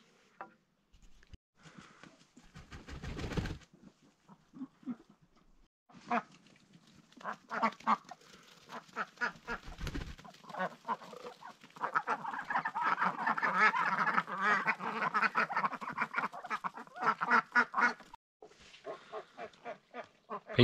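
Several ducks at an off-grid log cabin quack and honk in a steady, busy chorus, with louder bursts and a fuller stretch of calling toward the middle, and no talking.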